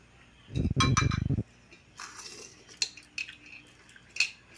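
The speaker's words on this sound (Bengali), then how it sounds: "তো চলো বিরিয়ানি হাঁড়িটা খোলা যাক।" A metal lid is lifted off a pot of egg biryani, giving a burst of loud clinking and rattling, followed by scattered fainter clinks of the pot.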